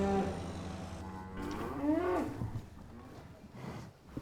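Cattle on a nature-based farm give a drawn-out low moo with a rising, groaning middle, moderately loud and close over outdoor background noise, with a fainter call near the end.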